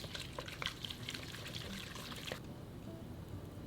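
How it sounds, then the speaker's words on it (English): Cooled reserved vegetable boiling liquid is poured slowly into ground pork filling for steamed stuffed cabbage rolls, a soft trickling splash lasting a couple of seconds before stopping, quiet and close with no talk. "slowly add in the cooled down reserved vegetable boiled liquid"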